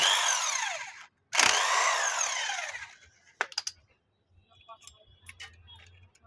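Power tool whirring as it unscrews bolts on a Honda CD Deluxe motorbike during timing chain work, two loud bursts of drill spin separated by a brief pause, followed by faint metallic clicks and rattles.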